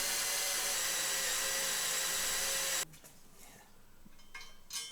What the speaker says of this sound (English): I'll make my starting point there with my punch, and we'll drill the holes.